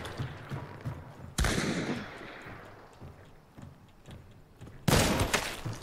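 Two loud, close gunshots ring out in Hunt: Showdown, spaced a few seconds apart. Each sharp crack trails off in a long echoing decay, with quieter rustling and movement in between.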